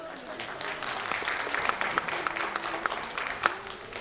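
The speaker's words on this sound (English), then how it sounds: "Let's clap for Swati ma'am." Audience clapping for Swati ma'am at a school annual day event, a moderate, steady patter of many hands with a few sharper claps, lasting several seconds.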